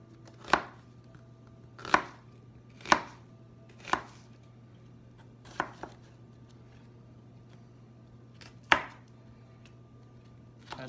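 Knife chopping through a vegetable on a cutting board in a home kitchen, sharp close knocks about once a second, then sparser with a gap before a final pair.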